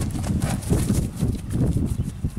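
Hooves of a young, lightly ridden dark-brown SPC horse clip-clop steadily and close by in a continuous rhythm, with no voices over them.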